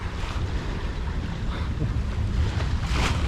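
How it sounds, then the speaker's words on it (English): Wind and water rush steadily around a sailboat under way in picking-up breeze with whitecaps, a continuous close roar of wind noise and waves with surges of spray, no talking. "The wind's really picked up."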